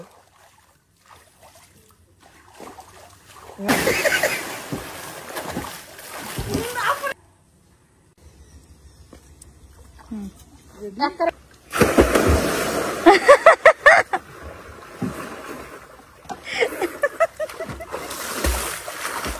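Someone jumps into a village pond, and bursts of heavy splashing and sloshing water come in two main bouts with quieter trickles between. Voices talk nearby.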